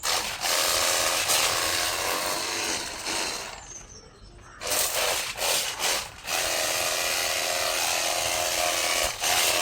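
A mini car washer sprays water in a long, loud, steady hiss, cutting out briefly near the middle before the harsh spray resumes at full strength.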